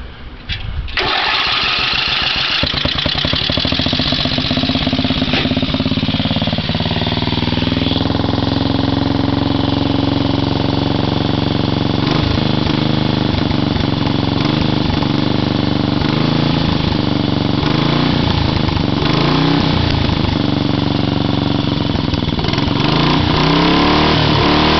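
A homemade racer's engine starts up and keeps running, loud, steady and close, with a rough, buzzing idle that shifts slightly in pitch over about twenty-five seconds.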